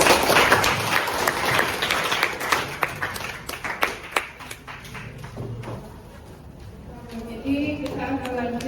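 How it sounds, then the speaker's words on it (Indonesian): Classroom applause from students after a good presentation, a dense patter of many hands clapping close by, fading out toward the end as a voice starts speaking. "kasih aplaus lah buat kalian"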